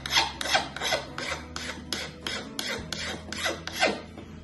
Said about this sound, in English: we got here basically an 8-inch bastard file, just kind of like a fine tooth